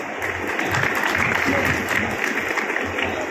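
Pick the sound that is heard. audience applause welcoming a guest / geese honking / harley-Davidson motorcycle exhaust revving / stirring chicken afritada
audience applause welcoming a guest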